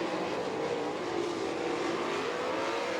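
410 and 360 sprint cars race around the dirt oval at Attica, Ohio, several engines roaring together in a steady, loud, continuous drone as three cars battle for position.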